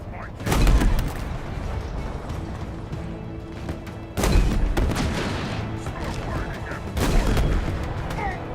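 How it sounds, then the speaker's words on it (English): Gunfire and explosive booms in the Halo Infinite campaign, heavy bursts hitting around 0.5, 4.2 and 7 seconds over continuous battle rumble and crackling shots, loud and close. "Enemy fire on me!"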